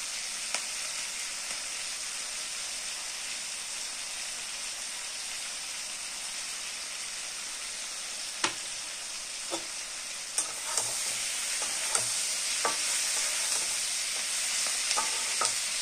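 Vegetables with tomato and capsicum frying in a pan for chilli paneer, a continuous bright sizzle that grows slightly louder, punctuated by scattered spoon taps and scrapes from stirring.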